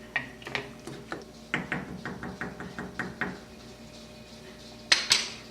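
A spoon stirs a thick pork stew in a metal pot, clinking and scraping in a steady run of close taps with a couple of sharper knocks near the end and no talking.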